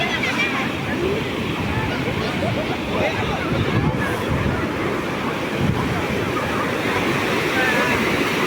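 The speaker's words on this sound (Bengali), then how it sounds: "এটা ঢেউ ভালোই আসছে" Sea waves roll onto the beach at Puri in a continuous, loud wash of surf, with gusty wind rumbling across the microphone and no distinct breaks between breakers.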